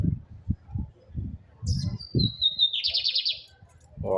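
A lined seedeater chirps close by, a thin descending call followed by a quick trill, after a few low muffled thumps and murmurs.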